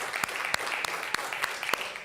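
Loud applause from a live-stream audience, a steady patter of many hands clapping throughout with a few sharper claps standing out.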